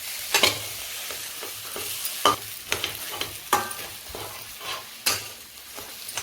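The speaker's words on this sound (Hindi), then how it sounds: "धीमी आंच पर हम आलूओं को अच्छी तरह से भून लेंगे" Grated potatoes roasting in spices in a kadhai over low heat for aloo kachori filling, with a spatula scraping and stirring in repeated sharp strokes over a steady soft sizzle, close and alone.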